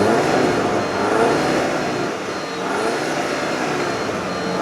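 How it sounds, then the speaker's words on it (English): A 2013 Audi A5 Premium with a four-cylinder turbo engine revs with the door open, giving a smooth, fairly quiet rising and falling engine note that is heard alone without talk. "I'm going to give it some gas, and we're going to take a listen and see just how quiet it is."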